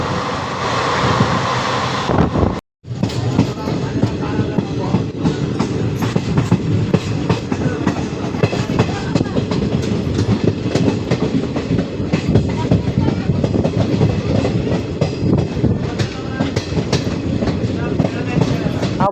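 An Intercity Express passenger train from Hospet to Bengaluru is heard from on board as a steady, loud rumble with rhythmic wheel clatter and gusts of wind noise. A brief dropout comes early on before the running sound resumes.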